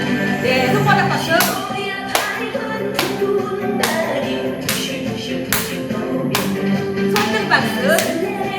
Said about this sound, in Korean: 네, 손바닥 박수.